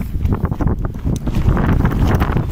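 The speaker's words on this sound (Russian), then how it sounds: "я извиняюсь за ветер" Strong wind buffets the microphone in a continuous loud roar, gusting unevenly without pause, outdoors at a wheat and barley field trial.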